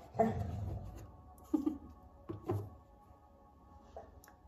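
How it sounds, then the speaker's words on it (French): Faint, muffled dog whimpers and soft yips come in scattered brief bursts over a quiet background, sounding like a sleeping dog making small noises. "C'est mon chien qui rêve, hein, si vous entendez des bruits bizarres."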